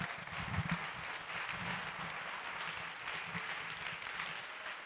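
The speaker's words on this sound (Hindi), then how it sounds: "ताली बजाकर प्रभु का धन्यवाद करें." A congregation at a Christian church service claps in thanks to the Lord: a dense, sustained roar of applause from many hands, steady and fairly distant, with no voices over it.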